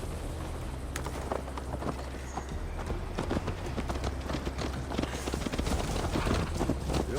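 Horse hooves pound in a steady galloping clip-clop while riding in Assassin's Creed Valhalla, the rhythmic beats clear and close over a low rumble of movement.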